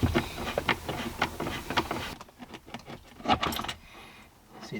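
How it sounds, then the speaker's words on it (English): Small screws and metal parts clink and rattle in sharp bursts as they are removed from behind the iDrive screen of a BMW F30, close and irregular, with a quieter pause between. "So now we got to take out these screws so we can reach the back of the screen"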